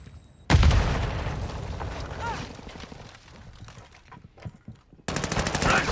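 A Semtex grenade blast and gunfire in Call of Duty: Modern Warfare 2 Ground War: a sharp, heavy explosion near the start, then rattling automatic fire that fades and returns loudly at the end.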